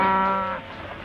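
A single drawn-out moo from a cow rings out loud and close, holding a tonal note before trailing off into quiet outdoor ambience after about half a second.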